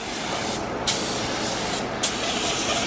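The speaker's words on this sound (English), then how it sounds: "doing the second coat, which is a little bit harder because you can't really see like where you've already sprayed" A spray gun lays a second coat of paint on a budget drift car, a steady close hiss of atomized paint with two brief sharp bursts as the trigger is pulled again.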